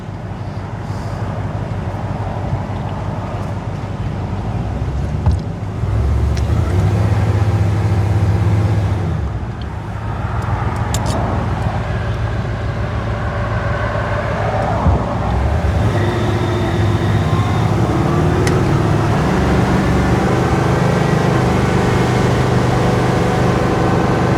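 A 1937 Cadillac Series 90 restomod convertible pulls out from a corner, its engine a steady loud rumble up close, swelling and shifting as it moves off alongside road noise.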